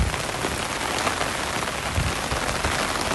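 Heavy rain drums on an umbrella during a walk from Boat Lagoon to Royal Phuket Marina in Phuket, Thailand, a dense, loud, close patter that never lets up, with no voices.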